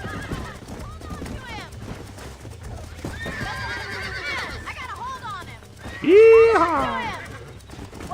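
A horse whinnies loudly in Red Dead Redemption, with a sharp neigh near the end rising above clip-clopping hooves and ambient game sound, while someone talks over much of it.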